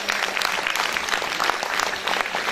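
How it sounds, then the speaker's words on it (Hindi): An audience at a talk about teachers applauds steadily, with dense, even clapping throughout and no voices standing out. "सर तो अपने टीचर्स के लिए एक दफा क्लैपिंग करें।"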